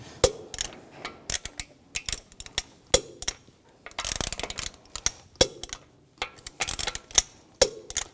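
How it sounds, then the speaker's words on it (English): Ratcheting clicks from a torque wrench tightening the lug bolts on an Audi A4 Quattro front wheel, 90 foot-pounds in a cross pattern, in sharp close bursts with short pauses between bolts. "Now I'm going to torque the lug bolts to 90 foot-pounds in a cross pattern to tighten the wheel down evenly"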